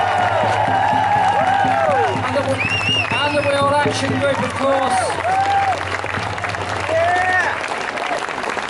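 A large crowd at an outdoor Restore Nature Now march rally applauds and cheers loudly, sustained clapping with whoops throughout while a voice speaks over a PA above it.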